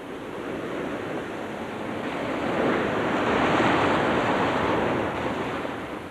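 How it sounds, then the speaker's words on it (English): Ocean waves wash in and out on a shore, a broad hissing surf that swells to a peak in the middle and eases off again, with some wind noise and no voices. "I could make out the overtones of the waves ebbing and flowing on the shore."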